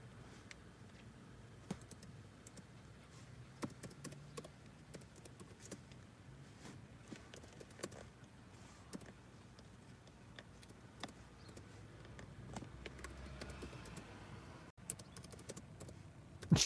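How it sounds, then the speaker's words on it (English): A woman types on a computer keyboard, producing soft, irregular clicks and taps that go on steadily and quietly for a long stretch, with no one speaking. "What is she typing?"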